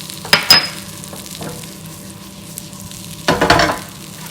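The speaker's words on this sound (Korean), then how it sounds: "이제 로즈마리를 볶아줍니다." Rosemary frying in a pan for sea bass steak: a quiet background sizzle broken by two loud, close bursts of crackling and spatula scraping, one near the start and one near the end, with no voices.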